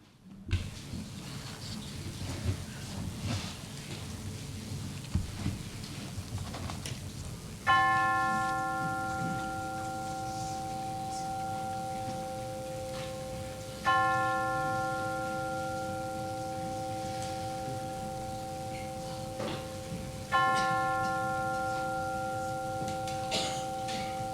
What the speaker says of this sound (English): let us center our hearts and our minds with the ringing of the chimes